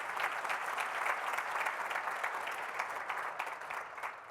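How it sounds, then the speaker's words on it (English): An audience at a Michigan energy policy forum applauds a speaker, producing a steady, even wash of many hands clapping throughout, moderately distant and fairly quiet. "give Jerry a round of applause"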